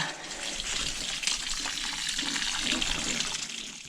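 A watering can pours water mixed with fertilizer onto plants in a garden, giving a steady close gush for several seconds without speech.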